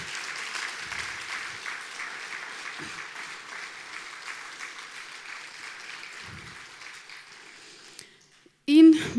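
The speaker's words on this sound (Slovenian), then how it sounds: "A damo en aplavz za malega ušija." Audience applause fills a charity concert evening for abandoned animals, sustained clapping that carries on for several seconds, then thins out and breaks off into a brief loud voice near the end.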